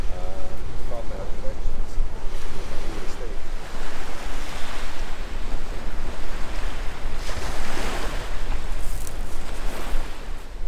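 Sea waves wash continuously onto a rocky Scottish beach, a loud, steady broadband roar with strong wind buffeting the microphone throughout.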